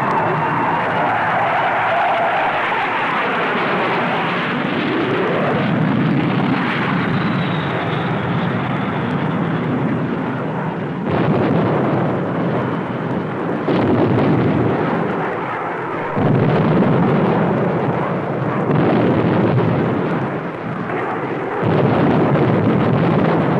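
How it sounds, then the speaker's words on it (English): F-105 Thunderchief jets dropping loads of 750-pound bombs on large area targets in a 1963 tactical weapons test, a continuous loud rumbling roar of engines and blasts with repeated heavy bursts, no voices. "Bombing capability of the Thunder Chief was evaluated against large area targets."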